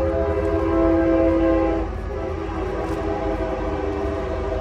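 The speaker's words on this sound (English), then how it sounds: "I apologize about the train." A loud train horn blares close by with rumbling rail noise beneath, the horn fading after a couple of seconds while the train keeps rolling.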